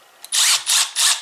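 A Milwaukee M12 cordless ratchet driver whirring in three short, loud, high-pitched bursts separated by brief pauses, close up and with no talk.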